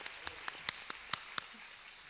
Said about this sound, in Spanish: Aplausos a vosotras.